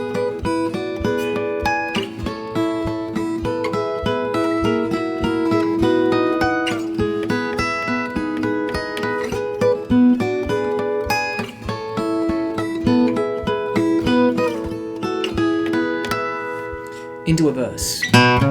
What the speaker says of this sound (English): So the intro sounds like this